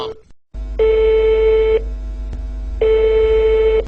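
Two loud, steady ringback tone bursts, each about a second long with a gap between, open a Turkish prank call to order water, with no talk over them.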